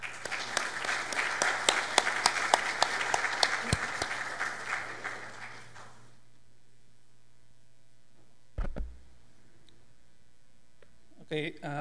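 An audience in a hall at a mining engineers' institute event claps loudly for about six seconds to welcome engineer Juan Pantoja, then the applause stops abruptly, leaving near silence with a couple of brief knocks.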